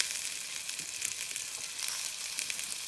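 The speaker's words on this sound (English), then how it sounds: "You can still hear it sizzling, but it has started to relax." Two T-bone steaks sizzle on a Cadac Safari Chef 2 gas barbecue, a steady, close crackling hiss with fine popping throughout and no talking.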